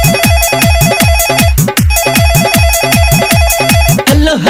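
A loud electronic phone ringtone melody plays inside a 2021 Bhojpuri Bol Bam devotional song, with a repeating bright beeping tune over a steady, punchy kick-drum rhythm and synth, continuous for a few seconds with no voices.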